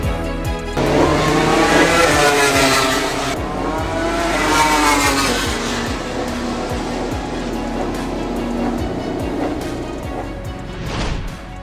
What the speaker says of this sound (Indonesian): sirkuit Mandalika tidak akan sepi dari geberan suara knalpot motor-motor super cepat dari para rider MotoGP